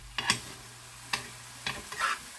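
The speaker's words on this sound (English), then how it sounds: "we're just gonna continue to break up our meat. Use my fork." Ground meat browning in a pan while a fork breaks it apart, giving four separate scraping, clattering bursts over a soft sizzle, spaced unevenly and close by.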